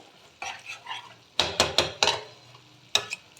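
Ilish fish heads fry in a pan, with short bursts of crackling spatter and a few sharp metallic clinks of cookware heard close and separated by quiet gaps.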